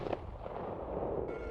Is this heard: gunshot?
yes